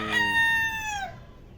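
A rooster crows loud and close in a backyard chicken coop: one long, strained call that trails off after about a second.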